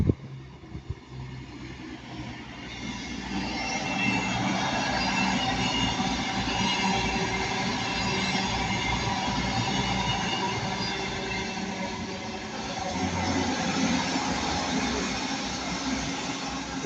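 A train rolls steadily past at Ardwick, building into a loud, sustained rumble and wheel noise with a faint rhythmic clatter that holds throughout.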